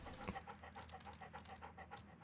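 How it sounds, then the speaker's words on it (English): A dog pants in a Sherlock Holmes video game, quick, even, rhythmic breaths repeating steadily, close but fairly soft, with a brief thump near the start. "He pants faster when he runs."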